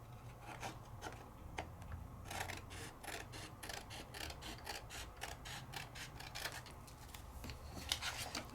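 Paper card stock trimmed for a handmade Christmas card, with soft repeated cutting and rubbing strokes, close and quiet, in short irregular bursts.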